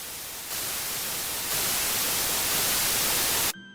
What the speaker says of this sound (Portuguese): um estranho som de estática surgiu e começou a ficar cada vez mais alto.